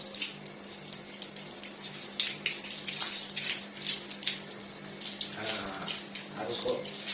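Water from a tap or hose splashes steadily while a sacrificial bull is bathed in a kitchen, a continuous gushing and spattering with people talking over it.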